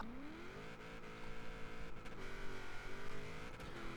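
A Honda Civic Hatch drag build with an 1100-plus horsepower engine at half throttle in Forza Horizon 4, a steady raspy drone that climbs in pitch, dips on a gear shift and climbs again, with wheelspin.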